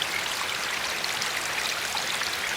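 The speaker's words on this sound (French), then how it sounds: "La Juine s'engouffre dans une canalisation sous la route avec force" The river Juine rushes forcefully into a culvert beneath a road, a steady, dense roar of churning water that stays close and constant, with no voices.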